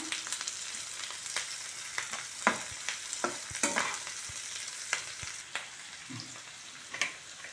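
Cubed capsicum sizzles in a hot pan while a utensil stirs and scrapes, with irregular clinks and bursts of crackling frying.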